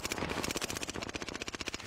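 Rapid automatic gunfire in Call of Duty Warzone on the Caldera map, a fast even burst of shots heard faintly in the distance.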